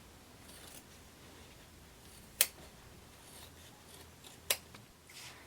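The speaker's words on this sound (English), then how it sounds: "So we're going to cut off all this excess. Clip into your corner." Scissors snip excess denim fabric at a garment corner during sewing, two separate sharp crisp cuts a couple of seconds apart against a quiet background.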